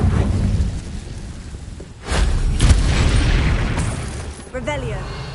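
An Incendio fire spell goes off in Hogwarts Legacy, heavy booming rumbles rolling like thunder, with a second burst and a brief voice near the end.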